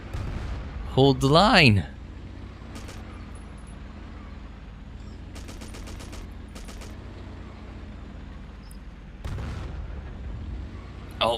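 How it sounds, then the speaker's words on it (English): Battlefield 1942 battle sounds: a loud rising engine or shell whine and blast near the start, then distant gunfire bursts and booms over a low rumble, with voices talking briefly. "Oh, we got a good shot in on him there. Oh, we're just blowing him up."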